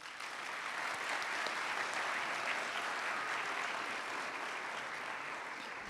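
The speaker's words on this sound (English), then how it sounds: "Please give all of our distinguished guests a round of applause." Sustained applause from a large audience at a high school graduation ceremony, steady and dense clapping filling the whole stretch without pause.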